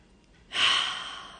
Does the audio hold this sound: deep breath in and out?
yes